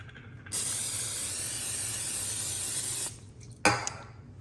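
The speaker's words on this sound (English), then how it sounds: "I want to spray with olive oil spray" A close hissing spray from an olive oil cooking spray can for about two and a half seconds, followed by a short clicking knock.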